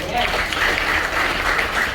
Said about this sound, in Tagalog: isa pang palakpak kay Lord.